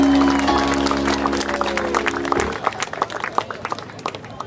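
Audience applause at a Community Day for a second prize winner, scattered clapping rising as a tonal engine-like hum cuts off, then lighter uneven claps from a modest crowd.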